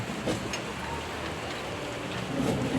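Steady rain patters down on a construction site with a low rumble underneath, a continuous wash of noise that swells slightly toward the end.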